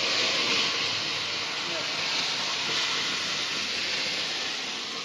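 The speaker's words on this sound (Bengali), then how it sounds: "তেল গরম হয়ে গেছে, এবার দিয়ে দেবো ম্যারিনেট করে নেওয়া মাংসটা।" Marinated mutton going into hot oil in a wok produces a loud, dense, unbroken sizzle that holds steady from start to finish.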